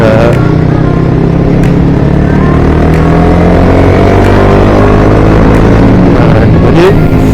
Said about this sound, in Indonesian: jadi di sini gua naik dari RPM nya tuh RPM 5000 ya, 6000-an itu digigit 3. Coba kita turun sekali.